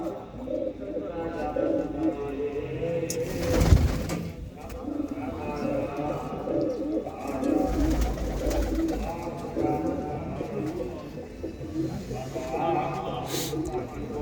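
Pigeons cooing in loft coops of a flying-pigeon group, soft throaty coos repeating close by throughout, with someone talking over them.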